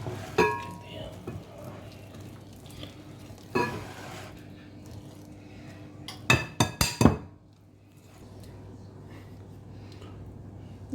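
Self-raising flour gets mixed into sponge cake batter in a bowl, giving scattered clinks and scrapes of a utensil against the bowl, with a quick burst of knocks near the end and faint talking.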